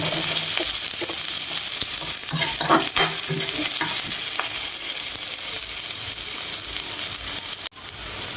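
Small fish frying with ginger in a pan and being stirred, a loud close sizzle with scraping strokes of a spoon that ends in a short break near the end.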